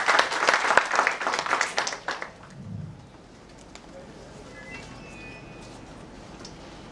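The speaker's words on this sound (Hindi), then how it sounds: "एक बार आप लोग जोरदार तालियों से स्वागत करें" An audience at an event claps loudly to welcome a guest, a dense burst of applause lasting about two seconds before it quickly dies away into quiet room tone.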